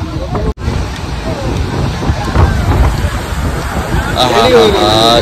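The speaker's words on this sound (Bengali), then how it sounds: "এই যে হাওয়া হচ্ছে" Strong wind buffets and roars across the microphone at the beach in Digha, with voices speaking faintly under the gusts.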